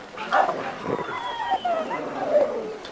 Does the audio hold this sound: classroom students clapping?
no